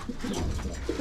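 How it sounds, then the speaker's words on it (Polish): Racing pigeons in a loft give soft, low cooing calls, close and continuous over a murmur of background noise. "I te gołębie zostają."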